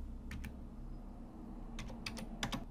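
Computer keyboard keys pressed while drawing geometry in ANSYS SpaceClaim, a few crisp close clicks: a pair early, then a quicker cluster of taps near the end over a quiet low hum.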